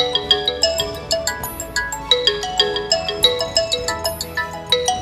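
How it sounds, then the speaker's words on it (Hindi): A mobile phone rings with a bright, melodic electronic ringtone, a quick repeating pattern of chiming notes playing loud and steady for the whole stretch, with no voices. "तभी उसके मोबाइल में घंटी बजी।"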